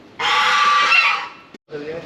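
A goose kept as a pet in a Brunei village gives a loud, sustained honking call lasting about a second, then breaks off and starts again. Faint background noise sits beneath it.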